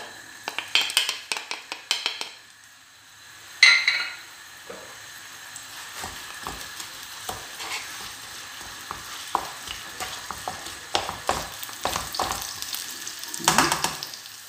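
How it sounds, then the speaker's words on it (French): Onions and green peppers sizzle in olive oil in a pan, a steady fry broken by repeated clinks and scrapes of a utensil stirring, close and with no talking. "je vais faire revenir les oignons. Ainsi que les poivrons verts"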